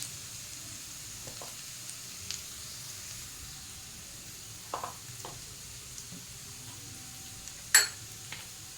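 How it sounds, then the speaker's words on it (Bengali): Garlic and vegetables fry in a pan for homemade chow mein, giving a steady low sizzle with a few sharp clicks and taps of a utensil against the pan, the loudest near the end. "রসুনটা একটু হালকা করে ভেজে নিয়ে পরে এক এক করে সবজিগুলো এর মধ্যে দিয়ে দেবো।"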